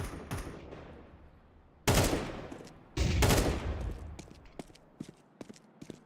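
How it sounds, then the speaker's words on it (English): Counter-Strike gunfire in a competitive esports match: two loud bursts of automatic fire, then scattered single shots and sharp clicks trailing off into quieter moments, with no voices. "Emilio peppering them with bullets"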